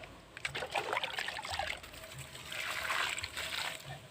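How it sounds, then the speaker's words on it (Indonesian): Transplanted plants being watered with river water: a soft, continuous trickling and splashing that swells and fades in uneven bursts, quiet and close, with no voices. "Langsung saja kita lakukan penyiraman."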